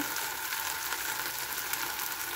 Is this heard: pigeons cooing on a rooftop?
no